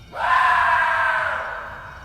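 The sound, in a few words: guttural scream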